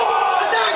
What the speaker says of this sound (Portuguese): do Bernabé entoando um dos cânticos da torcida colorada contra o seu maior rival